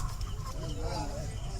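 Suguna company broiler chickens loaded by four workers during a poultry lifting, clucking and squawking faintly amid a busy, rumbling low background with some voices.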